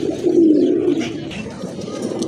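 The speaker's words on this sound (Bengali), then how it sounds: "মাশাল্লাহ আরেক জোড়া কবুতর, খুবই কিউট এক জোড়া কবুতর।" A pair of pigeons from a breeder's sale collection coos close by in low, rolling throaty notes, with soft fluttering sounds and no one talking.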